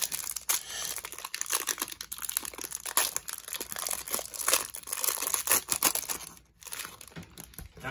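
Crinkling and tearing of a sealed foil trading card pack being opened, a steady run of close, soft plastic crackles and rips with no talking.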